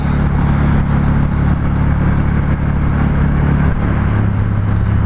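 A Can-Am Spyder Roadster RT engine hums steadily and close while the rider downshifts manually, with the engine tone dropping audibly near the end of a constant, loud drone.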